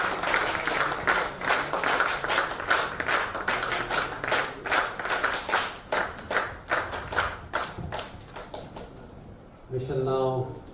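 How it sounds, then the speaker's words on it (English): Audience applause at a chapter launch event in Vijayawada, a long steady round of many hands clapping close and loud for about nine seconds, fading out as a voice speaks briefly at the end. "Big round of applause there."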